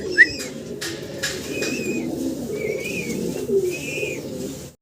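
Pigeon coos from a pair of very large pigeons, low rolling calls repeating steadily close by, with a few higher bird chirps over them.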